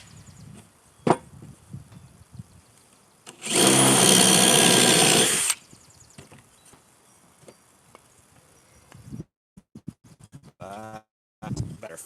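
A power drill with a drill bit runs in a single loud, close burst of about two seconds, surrounded by quieter handling clicks, knocks and outdoor background sounds.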